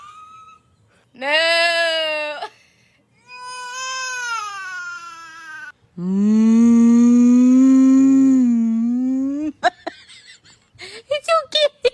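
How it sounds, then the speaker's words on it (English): A cow's moo plays in a short social-media compilation. Several drawn-out, harmonic calls come close and loud, the longest lasting about three seconds, followed by brief clicks and small reactive sounds. "little babies reacting to the sound of a cow's moo"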